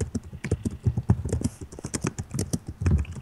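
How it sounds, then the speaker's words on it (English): Fast, close computer keyboard typing heard alone, a steady patter of sharp key clicks with no talk. "Sorry about the typing, guys. I know it's loud"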